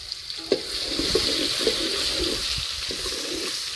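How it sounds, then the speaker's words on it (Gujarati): Garlic and chilies sizzle loudly and steadily in a hot pan, with a few soft knocks of stirring scattered through the crackle. "હવે નાખવાનું છે લસણ ને મરચાં આમાં નાખી દેવાનું છે"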